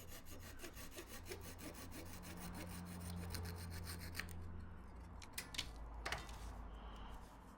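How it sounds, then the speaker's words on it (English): Glued edge banding trimmed away on a simple woodworking piece, a steady close rasping cut that gives way to a few sharp scrapes and knocks near the end. "That's glued in, and I'll just trim that away."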